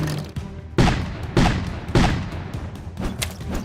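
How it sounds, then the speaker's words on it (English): A cartoon tank gun fires a series of bullets: four or five sharp, punchy shots spaced about half a second apart, each a loud booming crack over a steady background music bed. "John successfully dodges PeaPea's first series of bullets"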